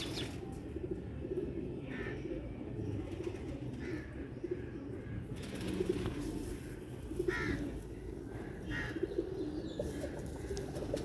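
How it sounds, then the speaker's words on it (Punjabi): Sialkoti rooftop pigeons cooing in a soft, steady murmur close by, with repeated low coos rising at intervals over continuous background bird noise and a few faint chirps or wing sounds. "ਅਸਲ ਸਿਆਲਕੋਟੀ ਛੱਤ ਵਾਲੇ ਕਬੂਤਰ ਨੇ।"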